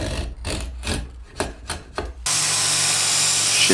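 Hand rasp shaping a wooden axe handle: about half a dozen rough, scraping strokes in a loose rhythm, then a steady, louder broadband hiss takes over for the remainder.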